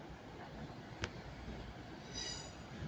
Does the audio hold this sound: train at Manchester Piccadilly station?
yes